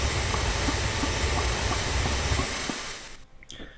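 A steam locomotive in Train Simulator 2017 runs with a loud, steady hiss and rumble, then cuts off abruptly near the end, leaving a few faint clicks.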